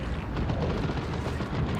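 D cannon fire in Dawn of War 2, a dense, booming rumble of heavy blasts amid continuous battlefield noise, loud and unbroken throughout.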